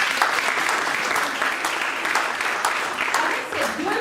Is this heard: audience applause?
yes